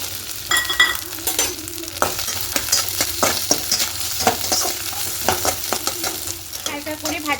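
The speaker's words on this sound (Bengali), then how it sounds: "তেলের মধ্যে কেটে রাখা নারকেলটা প্রথমে ভেজে নেবো" Chopped coconut frying in white oil in a wok, a steady crackling sizzle broken by repeated scrapes and knocks of a spatula stirring the pieces, close and continuous with no talking.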